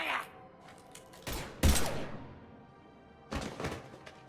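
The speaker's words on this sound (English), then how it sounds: "Now open fire!" Gunfire in the Mass Effect 3 video game, a few heavy thumping shots and bursts over a low background rumble, moderately loud.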